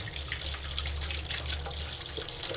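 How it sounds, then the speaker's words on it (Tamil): Tap water runs steadily as sweet potatoes are scrubbed clean in a sink, a close, continuous splashing rush with small irregular spatters and no voices. "இப்போ கிழங்கு வந்து நல்லா க்ளீனாக கழுவிடலாங்க"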